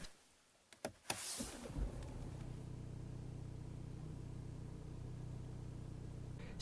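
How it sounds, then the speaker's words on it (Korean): A BMW 520d M Sport diesel starts with a few quick clicks and a cranking burst, then settles into a steady, low, quiet idle rumble that holds evenly to the end. "이제 다음으로 시동을 켠 상태에서의 소음을 측정해 보겠습니다"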